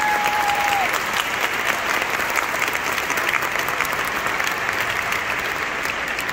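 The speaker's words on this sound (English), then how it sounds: "Another round of applause." Audience applauding at a 2021 college graduation ceremony, a dense, steady wash of clapping across the whole stretch with a brief whistle-like tone at the start.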